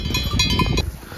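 Long-horned goat in an alpine natural park, a short bleat or two standing out over open-air background noise, with a bell-like clank mixed in, no talking.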